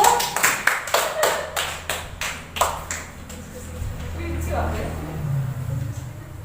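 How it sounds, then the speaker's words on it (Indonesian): A classroom of students claps for the first group after their presentation, a burst of fairly loud, quick claps in the first few seconds that thins out, followed by murmuring and low room noise. "Oke, tepuk tangan dulu untuk kelompok 1."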